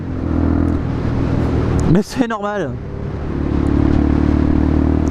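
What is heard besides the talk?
VanVan 125 motorcycle engine riding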